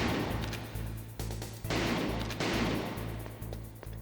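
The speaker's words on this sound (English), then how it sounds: "you think they would have heard those gunshots from a little further away" Several loud gunshots ring out in a stealth video game set in a guarded facility, arriving in sharp successive cracks about every half second to second over a low rumbling game backdrop, with no talk.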